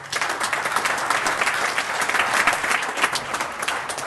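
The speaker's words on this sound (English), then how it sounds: "We have to give them a bit of applause also." Steady applause from attendees at a city council meeting fills the room, dense and continuous throughout at moderate loudness with no break.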